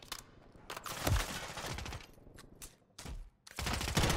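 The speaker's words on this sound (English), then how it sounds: "Nice little gunfight there." A gunfight in Call of Duty: Modern Warfare III plays as uneven clusters of close, sharp shots separated by brief pauses, loud and without talk.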